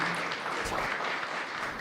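An audience at a Juneteenth keynote event applauds the event team in a steady wash of clapping, fairly close and continuous throughout.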